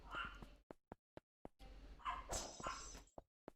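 A pet dog barks and yips indoors in short sharp bursts mixed with a few whimpers, fairly close, with a person talking over parts of it.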